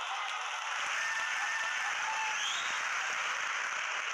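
An audience clapping steadily at a talk, a dense, even wash of applause at moderate loudness that holds for the whole stretch without pause.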